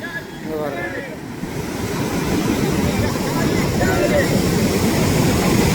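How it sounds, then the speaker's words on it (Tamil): Rough sea surf crashing steadily near the shore at Mullaitivu, a continuous loud wash of breaking waves mixed with wind noise, building slightly louder toward the end. "சரியான கடல் அடி."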